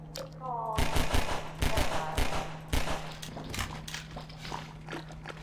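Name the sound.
gunshots in video game Half-Life 2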